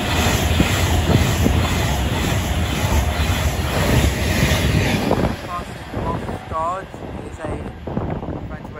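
Class 350 electric train passing at speed through Watford Junction on the West Coast Main Line, a loud rushing roar with rattling wheels that fades after about five seconds, followed by quieter station ambience and a brief squeal.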